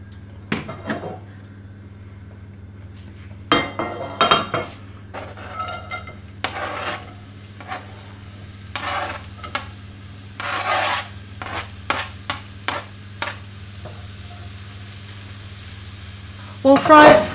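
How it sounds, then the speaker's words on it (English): Finely chopped onion fries in a couple of tablespoons of olive oil, quiet sizzling broken by repeated scraping and stirring strokes of a utensil against the pan, some louder rasping bursts near the end. "I'm going to first start frying the onion"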